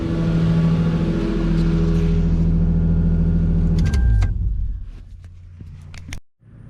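A Lexus SC300 engine fitted with longtube headers idles with a deep, steady rumble close by, then cuts off abruptly, leaving a few clicks and faint ticking as it stops.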